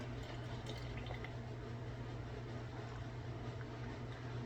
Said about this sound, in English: So let's go ahead and pour up.